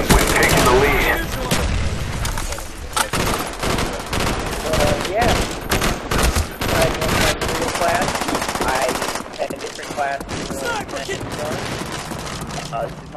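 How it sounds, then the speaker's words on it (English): Fully automatic rifle fire in a video game team deathmatch, with loud, rapid sustained bursts and scattered booms, mixed with game sounds and voices talking. "This is my best default rifle class that's fully automatic."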